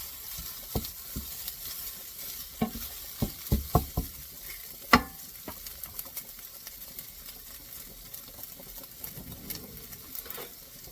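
A metal utensil scrapes and taps against a pan of frying Italian sausage, with a steady sizzle underneath and a burst of sharp scraping strokes early on, close and fairly quiet.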